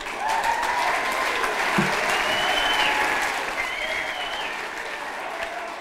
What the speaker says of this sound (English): I'd like to get a round of applause for Normie